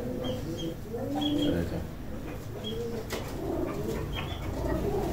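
A female Ferozpuri pigeon coos in soft, repeated low calls alongside faint chirps and other distant birds, with steady background noise throughout.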